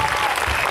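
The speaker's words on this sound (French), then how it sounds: "Bravo Tarek, on peut t'applaudir." Audience applause for actor Tarek Boudali at a public event in Tarbes, a steady dense clapping filling the short moment without pause.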